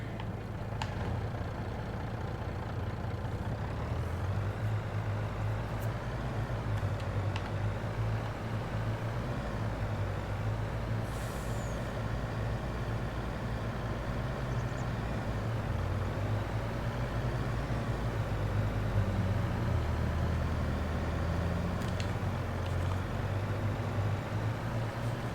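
A truck engine in Farming Simulator 22 runs steadily throughout, a low, even droning hum with a constant idle-like rumble and no talking over it.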